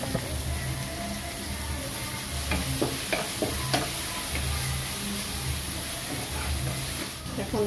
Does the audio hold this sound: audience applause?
no